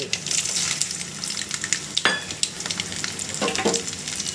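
Dried red chillies, garlic, chana dal and urad dal fry in hot oil for an Andhra-style green chilli chutney, giving a close, even sizzle with scattered crackles and brief stirring scrapes.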